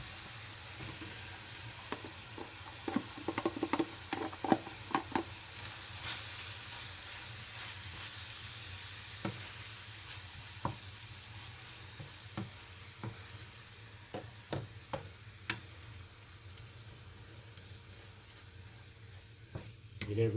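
Onion and garlic sauté quietly in a pan for a Mexican cornbread casserole, with a faint steady sizzle broken by scattered clicks and scrapes of stirring; no one speaks.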